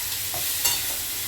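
Bottle gourd fries in a pan and is stirred, making a brief, close sizzle with a scraping stir partway through.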